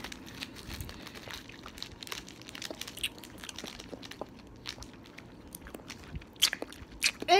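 Someone crunching into an orange-flavored hard candy, with faint irregular crunches and chewing close to the mic, growing louder near the end.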